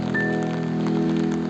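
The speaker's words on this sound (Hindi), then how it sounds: "देहरादून में लगातार बारिश हो रही है।" Heavy monsoon rain pours down in Dehradun in a loud, continuous hiss, steady and close, with no voices.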